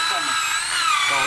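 A power drill with a 12 bit whirs steadily and loudly up close while boring during a Honda CBR motorcycle engine and piston repair, with someone talking over it.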